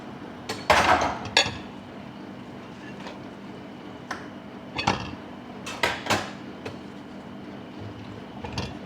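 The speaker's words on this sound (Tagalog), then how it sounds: "Ako ay maghuhugas ng plato." Plates and dishes clinking and knocking together while being washed by hand, a series of sharp irregular clatters spaced a few seconds apart over a low steady background hum, close by and fairly loud.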